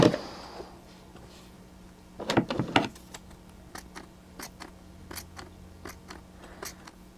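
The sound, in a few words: scissors trimming real fur on a puppet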